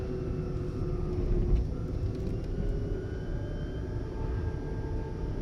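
A 1997 GM EV1 electric car driving around a neighborhood, heard as a steady low rumble of road and wind noise with a faint electric whine, continuous with no voices.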